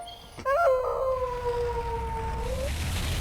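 A big cartoon dog lets out a loud, drawn-out howl that starts sharply and glides slowly downward before fading, heard on its own.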